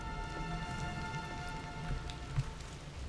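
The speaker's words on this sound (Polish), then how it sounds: "O, deszcz i błoto." Steady rain patters in the World War I video game Valiant Hearts: The Great War, a soft continuous hiss of drops with a low ambient hum underneath.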